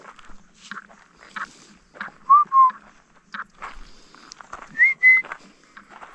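A person whistles at a wild animal outdoors in Tasmania: two short pairs of bright, rising whistled notes, fairly close, over quiet rustling and light footsteps.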